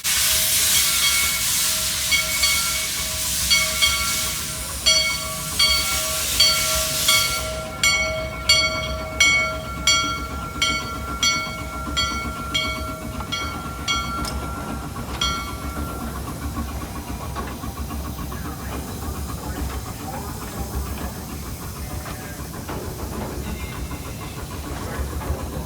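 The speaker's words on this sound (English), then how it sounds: "I heard the sound of the Shay departing" A Shay geared steam locomotive departing at the Hesston 2023 steam show: a long whistle blast, then rhythmic exhaust chuffs that quicken and fade into a hissing rumble as it pulls away.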